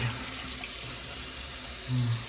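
A bathroom tap runs steadily as a razor is rinsed after a shave, a continuous close water stream with a brief clatter near the end.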